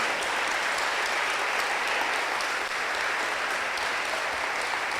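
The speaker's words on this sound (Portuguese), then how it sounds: "Aplauda Jesus em nome dEle." A church congregation breaks into sustained applause, a thick, even roar of many hands clapping together throughout, loud and unbroken with no voices standing out.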